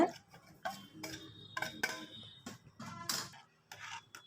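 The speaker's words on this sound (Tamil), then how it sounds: "வறுத்து வச்சுருக்க ரவா அதில் சேர்த்து கட்டி விடாமல் நல்லா கிளறிக்கோங்க" Scattered scraping and clinking of a spoon against a metal pot as thick semolina is stirred for kesari, irregular strokes, close by, no voices.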